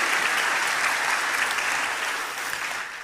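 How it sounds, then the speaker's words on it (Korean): A church congregation applauds to welcome its youth group: dense, sustained clapping from many hands that fills the room and fades slightly at the end, with no speech over it. "우리 환영의 박수 또 격려의 박수"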